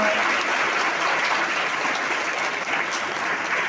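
An audience at a lecture-series event applauds with steady, dense clapping from many hands, a sustained even roar of claps throughout.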